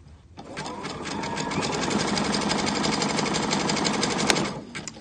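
A Destiny sewing machine stitches fabric at steady speed, its rapid, even needle hum close and loud for about four seconds before it slows and stops.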